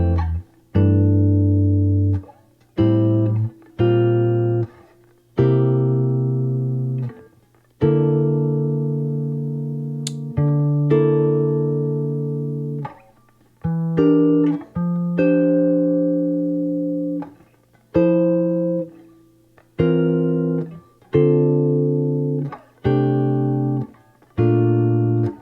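Quartal jazz chords on guitar, struck one at a time in a slow sequence, each ringing clearly and decaying before the next, with no talking.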